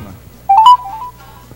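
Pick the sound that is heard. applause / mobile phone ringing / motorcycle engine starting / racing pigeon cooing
mobile phone ringing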